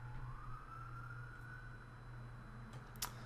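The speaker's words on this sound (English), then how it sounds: "Sometimes I can't tell if the sirens are on this game or they're actually on outside my window." A police siren from the game Enforcer: Police Crime Action sounds faintly in the background, one slow rising wail over a steady low hum, with a brief click near the end.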